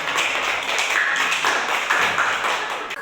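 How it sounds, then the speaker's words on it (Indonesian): A group of children clap their hands together in a classroom, a dense, steady wash of clapping that holds at a constant loud level for a few seconds. "Tepuk tangan dulu anak-anak."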